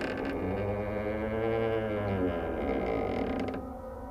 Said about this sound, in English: He looks towards the door as it slowly creeps open.